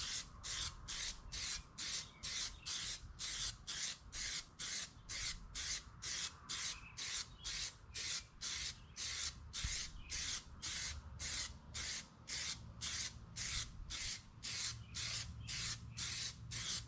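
Plasti Dip sprays from an aerosol can in a long series of regular, evenly spaced hissing bursts, each about half a second, close and steady over some seventeen seconds with no talking.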